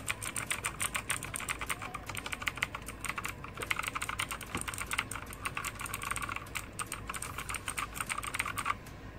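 Steady, rapid clacking of Outemu mechanical keyboard switches on a NUBWO Centennial X10 v2 keyboard being typed on, dense and continuous, close up with no voices.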